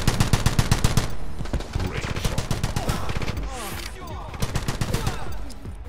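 Rapid automatic gunfire in a first-person shooter video game, loud and close, bursts of fast repeated shots starting and stopping, with someone talking over the firing in between bursts.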